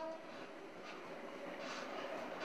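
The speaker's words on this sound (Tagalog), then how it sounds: "Umuuga kasi ang tren." Steady rumble and rattle of a moving PNR passenger train, heard from inside the swaying coach, a continuous broadband roar with faint periodic knocks, no voices.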